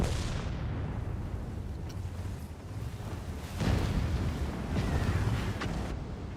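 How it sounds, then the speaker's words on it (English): Artillery fire strikes the player in a video game. Heavy booming blasts and a continuous rumbling barrage run throughout, with a louder surge of impacts in the second half and no speech. "how is artillery hitting me?"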